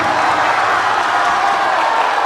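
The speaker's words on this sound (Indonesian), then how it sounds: "Berikan tepuk tangannya kepada kabilah Najmul Huda Burun Media" An audience claps for the overall champion group at the closing ceremony of an Islamic school fair, a dense, loud wash of applause and crowd noise that holds steady throughout.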